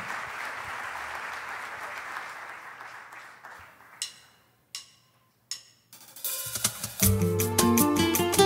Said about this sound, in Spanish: Un fuerte aplauso al señor Aníbal Marroquín.